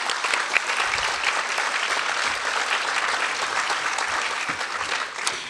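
Audience applause for panelists at a public panel event on press freedom, a sustained even roar of many hands clapping, loud and continuous.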